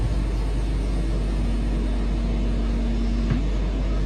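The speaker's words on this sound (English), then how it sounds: "Wait for the motor noises." A Northern Class 323 electric commuter train hums steadily as it runs, with a low rumble and a faint rising motor whine that holds, then cuts off near the end.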